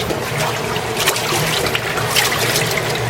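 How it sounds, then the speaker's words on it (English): A Maytag top-load washing machine agitates at normal speed, with steady sloshing and churning water in a continuous wash-tub rhythm, fairly loud and close, with no talking. "this is the normal agitation speed here"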